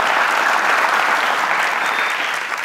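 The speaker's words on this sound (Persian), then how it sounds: "تشویق داشته باشین خانواده قریشی را" Studio audience at a Family Feud–style game show clapping loudly and steadily, a dense, sustained burst of applause that tapers slightly at the end.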